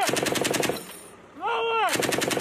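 Marines firing rapid bursts of automatic gunfire on command in Sweden, loud and close, broken by a brief pause in which a shouted command rings out before the shooting resumes.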